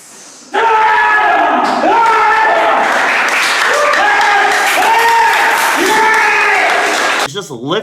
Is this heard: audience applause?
yes